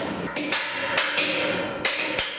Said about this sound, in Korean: 경쾌하게 울리는 망치 소리.